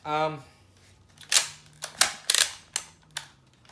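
A Nerf Falcon Fire AccuStrike blaster clacks through its mechanism in a series of sharp, close plastic snaps and clicks, about six distinct hits spaced irregularly after a brief voice at the start.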